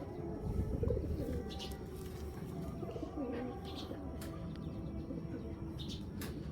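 Racer pigeons of Belgian, Dutch and German club stock coo repeatedly at close range, with soft chirps and a brief flutter of wings over a steady background hum.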